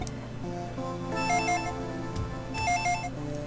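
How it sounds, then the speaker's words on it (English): A telephone rings in a Dragon Ball Z: The Legacy of Goku 2 game scene: two electronic, warbling ring bursts with a pause between them, over looping game music. "The phone is ringing in the living room."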